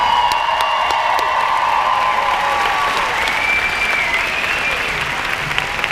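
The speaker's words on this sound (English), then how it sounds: "bring to the stage with a huge round of applause two amazing coaches" A large audience applauds and cheers as two coaches come on stage at a motivational event, with loud, sustained clapping and occasional whoops and whistles carrying over the crowd.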